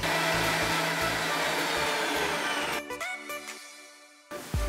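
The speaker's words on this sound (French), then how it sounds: "Mettez sur vitesse 4 pour bien broyer le pain de mie." A food processor on speed 4 grinds sandwich bread with a loud, steady motor whir that winds down and cuts out after about three seconds, then briefly starts again at the end.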